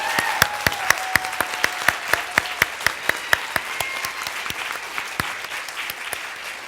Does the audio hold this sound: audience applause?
yes